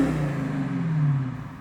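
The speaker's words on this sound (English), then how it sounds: "This car is a loyal and loud V8." A deep V8 engine of a 2020 Dodge Challenger Scat Pack Widebody rumbles and revs, a low throaty growl rising and falling over a second or two.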